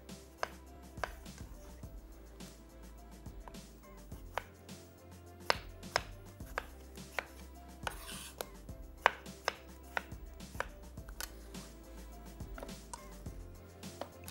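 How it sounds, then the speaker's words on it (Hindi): Tomatoes cut into small pieces being chopped in a chopper machine, a close steady run of sharp rhythmic chopping knocks roughly every half second over a low hum, no voices. "चॉपर मशीन में"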